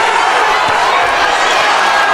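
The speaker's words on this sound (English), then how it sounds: "The crowd is back into it." Boxing arena crowd during a Bivol vs Joe Smith Jr fight, a steady dense roar of cheering and noise that holds loud and continuous throughout, with no single standout burst.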